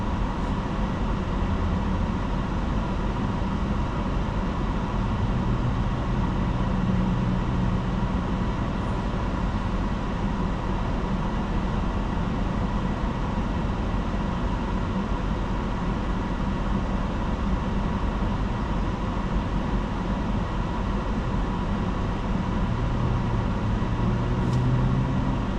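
Steady low road rumble and engine drone inside a car driving at night, continuous and even throughout with no talking.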